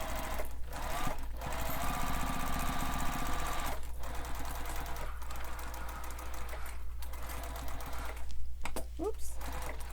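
A sewing machine runs a long basting stitch in steady bursts of rapid mechanical chatter, broken by short pauses, close and clear with a low hum underneath.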